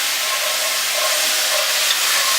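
Chickpeas being stirred with maple syrup and soy sauce in a hot pan, giving a steady, fairly loud sizzling hiss that holds evenly throughout without talk.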